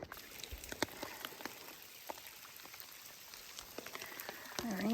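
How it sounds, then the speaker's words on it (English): Rain patters steadily on a trail shelter along the Colorado Trail, a dense continuous spatter of drops with a few louder taps, at moderate level throughout. "The rain finally got me."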